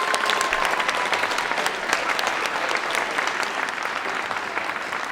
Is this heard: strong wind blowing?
no